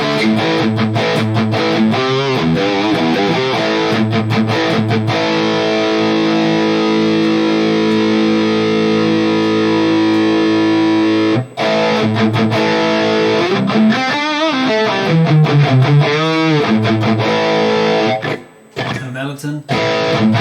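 Distorted electric guitar played through a Valeton GP200 amp model, loud sustained chords and riffs running continuously for about twenty seconds with short choked gaps and a final pause.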